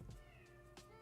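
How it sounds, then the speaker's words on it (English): A house cat meows indoors, a couple of short, fairly faint cries close by against a quiet room background, with no talking. "Just meows all the time."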